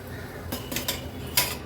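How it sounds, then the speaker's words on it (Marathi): Freshly fried potato chips are lifted into a large strainer, giving a few crisp clattering scrapes of metal and brittle chips in quick bursts, close and fairly loud, with no voices. "आता ह्या मोठ्या स्टेनरमध्ये मी हे काढून घेते."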